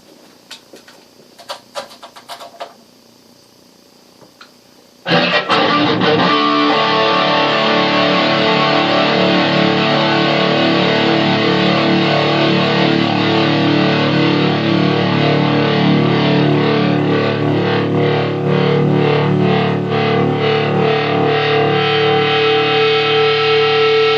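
A Fender Telecaster electric guitar runs through an old Yamaha effects processor, bursting in after a few quiet scratches and clicks into a loud, sustained, heavily distorted and echoing wash of tone that rings on without a break.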